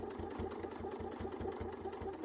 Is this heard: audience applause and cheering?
no